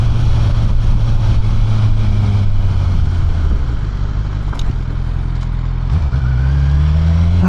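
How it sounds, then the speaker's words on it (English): Honda CBR 1000 RR motorcycle engine running steadily while being ridden, a loud continuous low drone with slight shifts in pitch and a brief bump near the end, heard up close with no talk. "Motorcycles like this are such a treat to ride."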